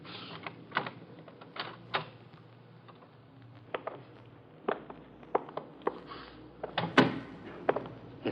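A door eases open in a radio drama set in a museum full of Egyptian relics: a quiet run of sharp latch clicks, knocks and creaks spread across several seconds, with no voices.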